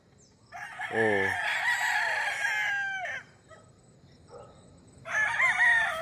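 Roosters on a chicken farm in Bauang, La Union crow in overlapping calls, one long crow followed by another after a short pause, fairly close, with a brief exclamation from a person.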